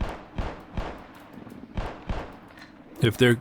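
Gunshots ring out underwater in Black Mesa: a handful of muffled, thudding shots at irregular intervals, followed by a louder burst of clatter at the end.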